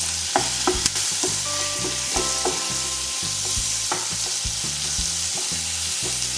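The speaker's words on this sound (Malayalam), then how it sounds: "ഇനി നമുക്ക് തക്കാളിയും കൂടി ചേർക്കാം. നന്നായിട്ടൊന്ന് വാടിക്കിട്ടണം" Tomatoes sautéing in a pan for paneer butter masala give a steady loud sizzle, with frequent knocking and scraping stirring strokes in an uneven rhythm, up close and with no voices.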